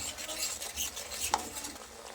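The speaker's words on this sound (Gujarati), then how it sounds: "હવે બધું સરસ મિક્સ કરી લઈએ." A spoon stirring momos red chutney in a pan after vinegar and soy sauce go in, soft continuous scraping and swishing with a faint sizzle and one small clink.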